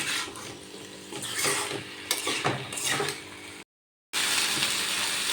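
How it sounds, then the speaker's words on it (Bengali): Potatoes are stir-fried with spices in a pan, with a soft continuous sizzle and scraping stirs close by, then a brief dropout before the frying hiss resumes. "এবার আমি আলুগুলো মশলার সাথে কষিয়ে নেব, যাতে আলুর গায়ে মশলাটা ভালোভাবে লেগে যায়।"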